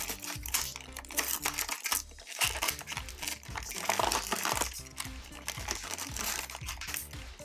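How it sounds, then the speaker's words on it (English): Stiff plastic packaging crinkles and crackles close up as a Raphael Ninja Turtles action figure is pulled from its blister pack, dense irregular rustling bursts with brief pauses. "go ahead and get him out of the plastic here"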